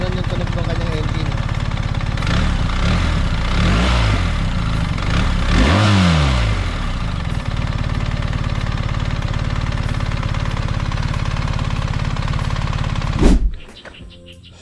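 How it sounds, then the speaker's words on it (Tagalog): A BMW R 1300 GS Option 719 motorcycle engine runs loud and close throughout, swelling into a sharp rev with a rising then falling sweep before cutting off abruptly near the end; a voice may be faintly present. "So ganun yung tunog ng kanyang engine."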